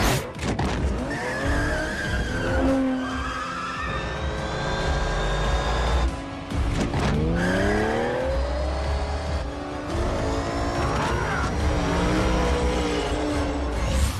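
Turbocharged petrol car shifting gears with sharp blow-off valve whooshes and hisses between loud engine revs, plus tyre squeal and rising whines, close and continuous.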